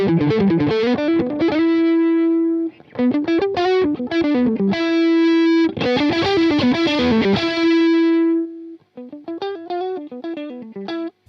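Electric guitar through a PRS MT15 amp, played alone as strummed chords and picked melodic runs with sustained notes, a distorted, effects-laden tone with short pauses between phrases.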